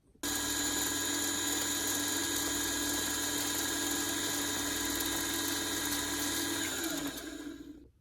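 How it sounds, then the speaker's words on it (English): Electric sewing machine motor winding bobbins, a loud, steady whir with a fixed tone that runs unbroken for about seven seconds and then slows and stops near the end, with no talking. "I'm trying to load bobbins for my machine so that when I do get to sewing, it's just an easy sew."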